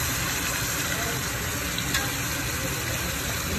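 Ginger and garlic frying in a pan for an Andhra-style mutton curry, giving a steady, dense sizzle that holds evenly throughout at moderate loudness.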